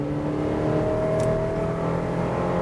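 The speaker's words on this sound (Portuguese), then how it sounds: "Você vê que o giro vai lá em cima, né? O motor grita e grita bastante." A Chevrolet S10 LTZ pickup's 2.5 Flex engine revs hard under full acceleration, a steady loud in-cabin drone with rising harmonic whine and constant road noise.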